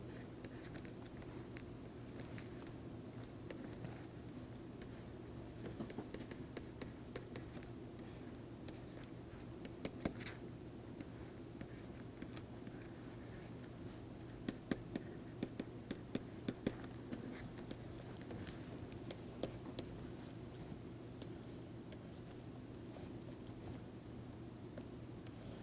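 Chalk or marker taps and scratches across a board in a lecture room. The strokes come in faint, irregular bursts over a steady low room hum, with no talk.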